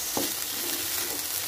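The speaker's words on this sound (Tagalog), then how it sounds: "Then, saka natin siya i-mix. This is our special fried rice." Special fried rice with longganisa and egg is stirred in a hot pan, with continuous sizzling and soft scraping of the spatula through the grains, close and steady.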